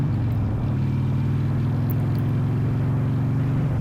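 Steady motorcycle engine hum with a low, even drone and faint rhythmic pulsing, held while the rider pulls the clutch and closes the throttle to shift gear, continuous and fairly loud with no voices.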